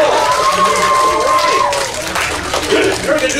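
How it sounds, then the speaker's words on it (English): Children at a school assembly break into loud, dense applause mixed with cheering and excited voices, a continuous roar of clapping close by that fills the room for the whole stretch. "Let's give them a big round of applause"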